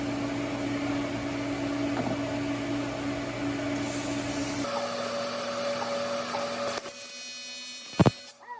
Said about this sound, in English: I'm going to try to cross alternate this welding process here